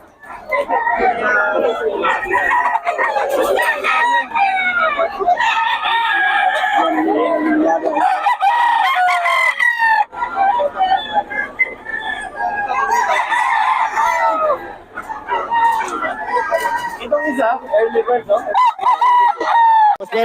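Roosters crow repeatedly at a gamecock market in Bocaue, several birds overlapping near and far with clucking, while people talk throughout.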